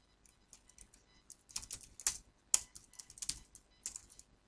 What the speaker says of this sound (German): Tippen kann ich auch nicht mehr.